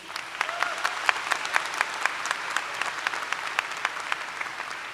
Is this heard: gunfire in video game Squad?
no